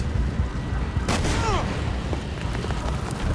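Tank blast in Far Cry 6, one sharp booming impact rising out of constant combat rumble and scattered gunfire.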